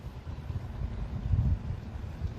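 Sea wind blowing steadily on the West Sea coast at Daejangdo island near Jangjado, a low rumbling gust noise buffeting the microphone throughout, swelling briefly in the middle, with no voices.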